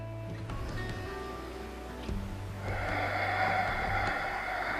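Slow, soft breathing during a prenatal yoga pose: a few gentle nasal inhales and exhales, close and quiet, over a faint low background hum.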